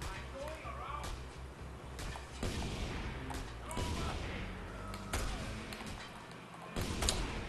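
Gunfire in Just Cause 2, scattered sharp shots and thuds cracking out at irregular intervals amid busy game noise, with a voice speaking over parts of it.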